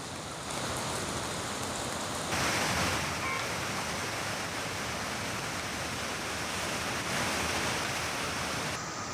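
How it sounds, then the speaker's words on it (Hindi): Swollen river in flood at Karnaprayag, a dense, loud, continuous roar of rushing water that swells briefly and holds steady throughout, with no voices. "जहां नदी इस वक्त उफान पर है"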